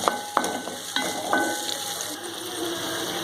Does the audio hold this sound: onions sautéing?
yes